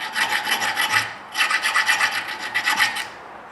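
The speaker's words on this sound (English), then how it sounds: "Right now I'm using a round file." A small round file rasps back and forth over rust on a small hatchet head, making close, scratchy strokes in two bursts with a brief pause between them.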